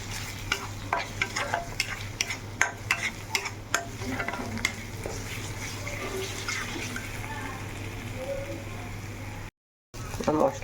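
Ground cumin and spices with green chilli sizzle in a pan while a spoon stirs and scrapes with irregular clacks, a low steady hiss underneath and a brief dropout near the end.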